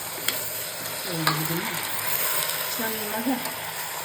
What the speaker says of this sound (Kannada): ನೀರು ಬಿಡೋವರೆಗೂ ಮಿಕ್ಸ್ ಮಾಡೋಣ.